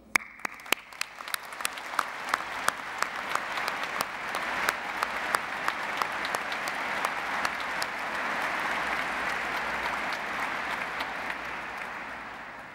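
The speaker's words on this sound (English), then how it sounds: "we may all be pleased start by applauding our graduates" An audience applauds the graduates at a university graduation ceremony, a few sharp early claps swelling into a long, even wash of crowd clapping that holds steady before fading slightly at the end.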